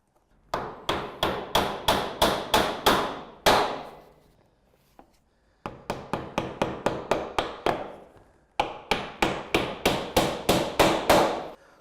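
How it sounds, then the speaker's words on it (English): Nails hammered through an eaves vent tray into a timber fascia board ring out as loud, sharp strikes in three quick rhythmic bursts of about eight to ten blows each, with short pauses between them. "we can nail through the top of the tray into the fascia beneath."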